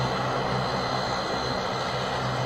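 An Airbus airliner roaring past with a steady, loud, broad engine rumble and whine that holds constant throughout, no voices.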